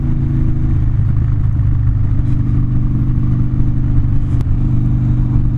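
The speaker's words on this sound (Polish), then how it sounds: "Typowo motocykl do pyrkania." A 2014 Harley-Davidson Dyna Street Bob motorcycle engine rumbles steadily up close, a loud, even low-pitched throb with mechanical clatter and no talk.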